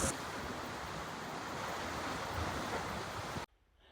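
Calm sea surf washes steadily against the rocky coast at Pancake Rocks, New Zealand, a soft continuous roar mixed with wind noise before cutting abruptly to near silence.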